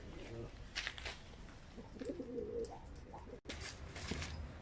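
Ankara Bozkırlı pigeons cooing softly in the background, low murmuring calls mixed with rustling and shuffling noises nearby.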